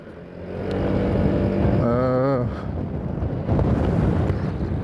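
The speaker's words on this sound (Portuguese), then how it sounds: "Tá ventando bastante hoje." Strong wind buffets the microphone on a walk to work, a steady loud rumble of gusts with a brief tonal whine partway through; no one speaks.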